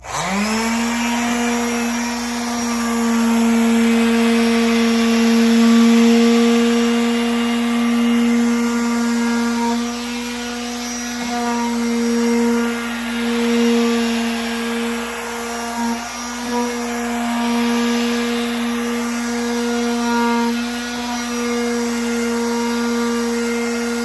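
An electric sander runs steadily on a wooden furniture piece being prepped for stain, a loud continuous motor whine with a strong hum that holds nearly unbroken for the whole stretch, shifting slightly as the tool moves.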